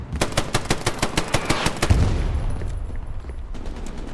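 A BAR automatic rifle fires a fast, steady burst of about a dozen loud, close shots during a competitive World War II match on the Carentan map in Hell Let Loose. The burst is followed by a fading echo and quiet ambience.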